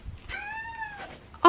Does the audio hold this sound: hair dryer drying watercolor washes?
no